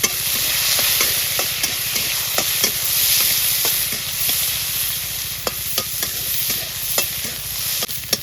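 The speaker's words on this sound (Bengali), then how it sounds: "এবার পেঁয়াজ দিয়ে দিলাম পেঁয়াজটা একটু লাল লাল করে ভেজে নেব" Onions frying in hot oil with cumin seeds and a bay leaf, giving a loud steady sizzle and hiss close up, broken by sharp, regular spatula scrapes, and no voices.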